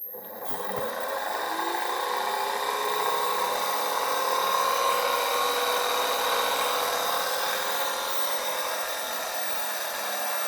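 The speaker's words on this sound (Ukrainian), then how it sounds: "Замість лампочки включаємо двигун." Small electric motor driven from a battery, whining steadily at close range after a brief click at the start, with a constant buzzing hum that holds for about ten seconds.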